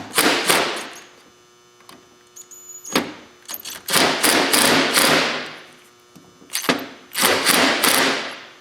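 An electric impact driver loosens carburetor screws on a 2003 Polaris Ranger Sportsman 500 in loud, close bursts of rapid hammering, several separate runs broken by pauses and faint clicks.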